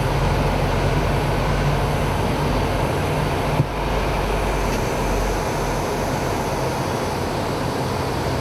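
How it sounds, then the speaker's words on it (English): HondaJet Elite HF120 jet engines at takeoff power: a loud, steady broadband roar fills the cabin throughout, with a low rumble and a brief bump partway through. "We're cleared for takeoff and advance the throttles to maximum power, and the HF120 engines push us forward."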